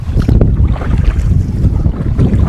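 Steady, loud wind buffets and roars against the microphone while someone paddles an iATAK 110 inflatable fishing kayak into a headwind on open water, with faint water sloshing underneath and no talking.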